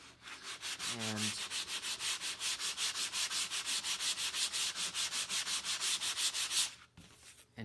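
Balsa wood glider trailing edges are sanded by hand in quick, even back-and-forth strokes, loud and close, keeping a steady rhythm for several seconds before stopping abruptly.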